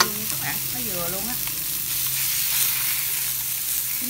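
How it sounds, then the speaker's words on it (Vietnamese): Round scad fish fry in a hot pan, a loud continuous sizzle and crackle with some stirring, while a brief voice is heard near the start. "chúng ta sẽ bỏ cá vô, chúng ta chiên sơ nó nè các bạn thấy không"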